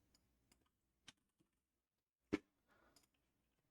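A few sparse, quiet keystrokes on a computer keyboard, isolated clicks spaced out in a near-silent room with one louder tap.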